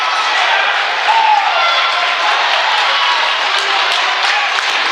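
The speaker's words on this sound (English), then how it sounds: "And there is a lot of cheering there from the Plymouth side." Crowd cheering and applause fill an indoor track and field championship arena, a steady broad roar of many voices throughout with no clear breaks.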